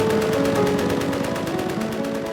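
Sustained rattling machine gun fire from First World War trench combat at the Somme, a steady rapid stream of shots, dense and continuous with a low rumble beneath, no voices.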